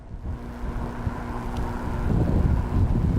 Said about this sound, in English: there is a lot of wind out here